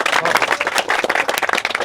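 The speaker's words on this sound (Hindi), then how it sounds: "एक बार सर के लिए ताली बजा दो सभी लोग" A group of people at an army pre-medical checkup clap together for the doctor, a short burst of brisk, close applause lasting under two seconds.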